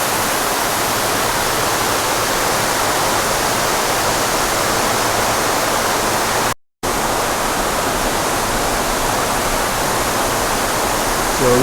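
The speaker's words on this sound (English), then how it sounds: "there's another waterfall" A waterfall at the exit of a cave pours in a steady, loud, broadband roar that stays constant throughout, with one brief dropout near the middle.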